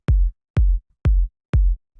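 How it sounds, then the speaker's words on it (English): Simple tech house kick drum, four punchy deep hits evenly spaced about half a second apart, each with a sharp attack and a short booming tail, alone with no other sound. "It's just this simple kick that I had."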